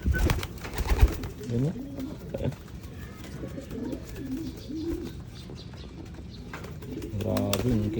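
Breeder pigeons cooing close by in repeated low, rolling coos, with occasional chirps and light wing movement, under intermittent talk.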